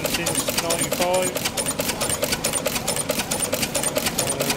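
A 1923 Ruston and Hornsby 7.5 horsepower stationary engine runs at a steam and vintage engine rally, with a rapid, even mechanical clatter of steady beats that continues throughout under people talking.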